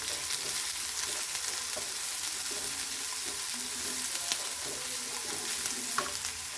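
Chopped green chilies and curry leaves fry in a pan with a steady close sizzle and crackle, with occasional stirring clinks over it and no talking.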